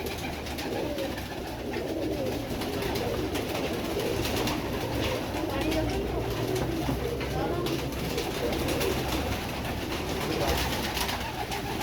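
Royal Teddy pigeons coo in a dense, steady murmur of soft, low calls from a flock, continuous and fairly close throughout.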